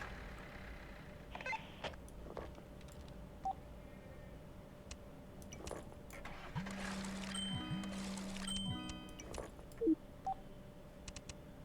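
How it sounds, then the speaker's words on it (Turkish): A phone buzzes twice with low, droning vibration notifications during passenger drop-offs in a taxi video game. The buzzes come through over quiet game ambience with scattered clicks and chimes. "Her müşteri tesliminde o telefon titreşim sesi geliyor."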